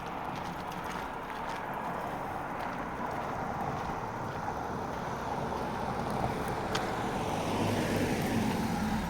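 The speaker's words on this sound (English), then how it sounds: "Big operation bus coming through." A bus squeezes through a narrow street with a low, rumbling engine drone and diffuse traffic noise, heard from nearby on foot, steady and fairly loud throughout.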